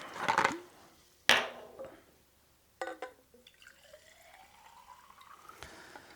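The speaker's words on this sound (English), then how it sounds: "and then you'll add your soda water" Soda water poured into a glass already holding acid phosphate, a few sharp clinks and splashes at the start, then a steady fizzing pour that rises in pitch as the glass fills, heard alone and close.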